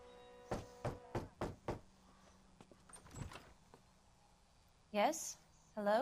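Knocks on a door in the detective game L.A. Noire, five quick, evenly spaced raps followed by a couple of fainter sounds, with brief speech near the end.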